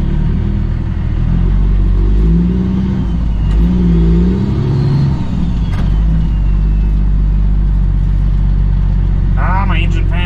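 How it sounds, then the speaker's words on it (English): A semi truck's engine runs with its cooling fan roaring, a steady loud low rumble and whoosh that holds throughout, with a brief higher whine near the end. "my engine fan's kicking up all the dust"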